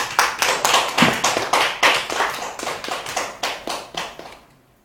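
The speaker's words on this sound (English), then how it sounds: "Can we give another round of applause to our two prepared speakers, Toastmaster King and Toastmaster Vincent?" A small Toastmasters club audience gives a round of applause to its prepared speakers: a close, lively burst of hand clapping in a pulsing rhythm that lasts about four seconds before fading out.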